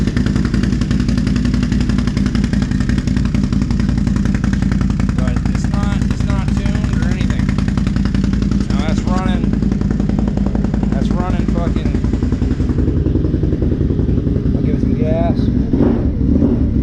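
A loud, steady cold-start idle from a 2020 Can-Am Renegade XXC 854cc ATV with a rough, throbbing exhaust beat, running continuously close by, with a person talking over it.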